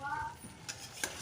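Malabar spinach with pumpkin and prawns being stir-fried in a pan, with faint scraping strokes of the spatula and two crisp clinks over a quiet background sizzle.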